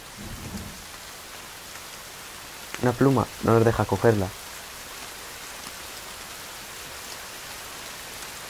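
Steady rain in The Forest video game, a constant broad hiss of drops with low rumbling beneath, continuing throughout while someone briefly speaks over it midway.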